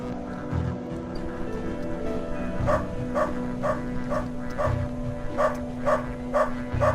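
Dog barking in the video game Underrail, a regular dog giving a series of sharp, evenly spaced barks at moderate distance over a low ambient hum, growing more frequent toward the end.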